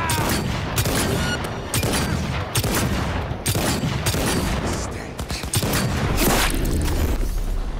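Rapid, loud gunshots from the Mancinella revolver in the video game Cyberpunk 2077 Phantom Liberty ring out in a dense, near-continuous barrage that fills the whole stretch with no talking.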